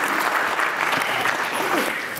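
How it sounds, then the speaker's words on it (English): A school assembly crowd gives a round of applause for a young volunteer walking up to the stage, loud continuous clapping from many hands with faint voices mixed underneath. "Let's give this young man a round of applause as he makes his way up here."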